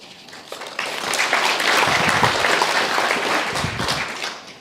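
At a Guide Dogs for the Blind graduation ceremony, an audience breaks into a burst of applause that rises quickly, holds steady for a few seconds and then begins to fade.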